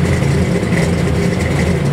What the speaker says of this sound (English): Got a 347 Ford on the dyno, make a little bit of noise with it.